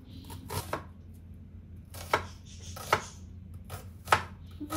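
An onion chopped with a knife on a board, a series of crisp, separate chops at an uneven pace, close and fairly loud in a quiet home kitchen.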